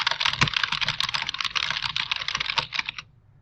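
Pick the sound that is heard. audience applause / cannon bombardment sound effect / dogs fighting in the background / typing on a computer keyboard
typing on a computer keyboard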